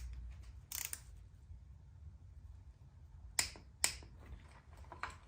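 A torque wrench clicks sharply a few times while bolts are tightened to 18 foot-pounds on an engine being built for boost, the crisp clicks rising above a quiet, low workshop rumble.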